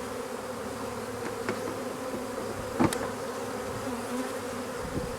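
Steady, dense buzzing of many honeybees close by around a hive, a continuous hum with occasional louder passes as individual bees fly near; no voices.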